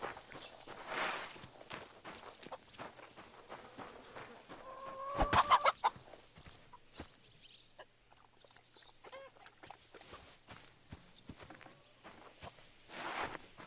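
A rooster clucks in the video game Kingdom Come Deliverance 2, soft scattered clucks amid a steady patter of footsteps, with one brief louder squawk midway and no talking.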